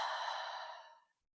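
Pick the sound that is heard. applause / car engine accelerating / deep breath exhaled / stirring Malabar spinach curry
deep breath exhaled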